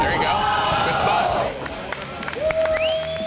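A crowd cheers loudly at a carnival event for a performing sister act, the broad roar fading after a second and a half into scattered claps and noise, with a rising whistle-like tone near the end.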